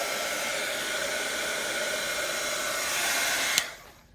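A handheld heat tool blows a steady, loud, close whoosh of air as it dries layers of green paint on a craft project, then cuts off abruptly with a click near the end.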